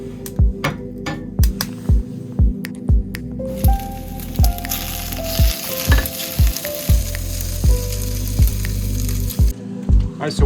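Dinner sizzles and fries over an open fire outdoors, a steady crackle broken by a regular series of sharp knocks or taps, close and fairly loud.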